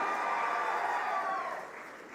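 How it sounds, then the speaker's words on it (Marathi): Brief burst of audience applause welcoming a guest at a BJP political event in Sangli, moderately distant clapping from a crowd that fades toward the end. "जोरदार टाळ्या वाजून त्यांचं स्वागत करा"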